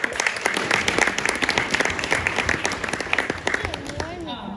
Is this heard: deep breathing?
no